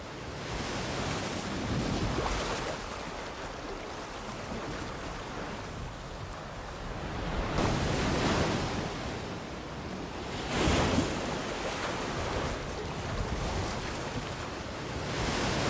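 Sea waves in a film scene, a steady broadband wash of surf with several swelling crests breaking, moderately loud and continuous with no music or voices.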